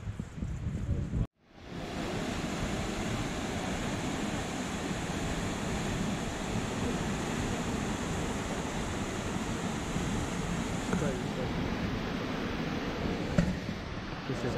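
Avalanche Creek in Glacier National Park, along the Trail of the Cedars, rushing as a dense, steady roar of flowing water, fairly near, with a brief cut near the start and no talking.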